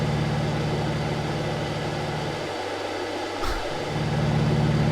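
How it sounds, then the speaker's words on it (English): Carenado F33A Bonanza piston engine idling in X-Plane 11, a steady low droning hum with constant tonal bands that dips briefly in level before returning to its even rumble, with no talking. "The engine sounds"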